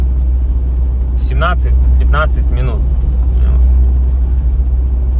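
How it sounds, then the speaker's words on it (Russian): A car drives along with a steady low cabin rumble underneath, while a person talks over it in the middle stretch. "Хотя, вру, вот я уже 3 минуты еду, получается, на машине"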